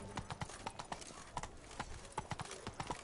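Roach the horse walks along in the game Witcher 3, her hooves clip-clopping in a steady, even rhythm, faint and close, with no talking over the steps.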